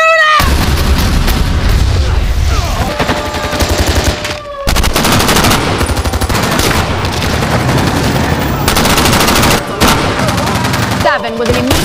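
Gunfire from the TV show Special Ops: Lioness, loud bursts of rapid machine-gun fire and individual shots crackling over tense music, with brief gaps between volleys.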